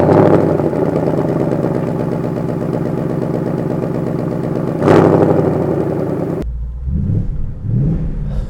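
A Ford Mustang Bullitt V8 drives on a country lane, its engine a loud, steady rumble that rises in a surge around the middle before cutting to a lower, uneven burble.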